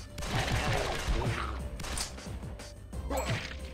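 Rapid bursts of cartoonish gunfire and impacts from the beat-'em-up video game Charlie Murder, crowded and punchy, with other game effects mixed in.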